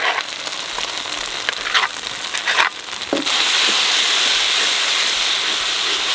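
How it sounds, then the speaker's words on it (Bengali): Spice paste of ground coriander and chili fries in a pan with ginger and garlic. A loud, steady sizzle sounds alone, broken early by a few scraping stirs, then swelling into a continuous hissing fry. "মশলা ভাজা হয়ে গেছে"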